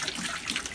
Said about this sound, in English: and I'm going to run water through it.